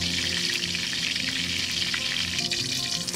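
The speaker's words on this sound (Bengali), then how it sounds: "ঘুরিয়ে ঘুরিয়ে আমি বেগুনটাকে ফ্রাই করে নিচ্ছি।" A whole eggplant sizzles in hot oil in a wok as it is turned, giving a loud, continuous crackling fry with small pops and stirring scrapes, with no voices.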